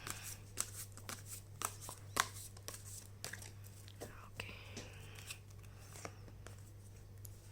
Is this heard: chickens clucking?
no